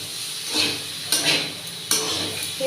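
Potatoes and spring onion stalks fry in a pan without chili, a soft steady sizzle broken by three sharp clinks and scrapes of a utensil stirring against the metal. No one speaks.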